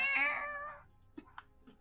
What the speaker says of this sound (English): That angry cat sound.